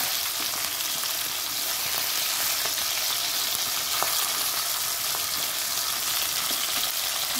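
Fish sizzles steadily in hot oil while being fried for a fish curry, a dense continuous crackle with small pops, close up and with no talking.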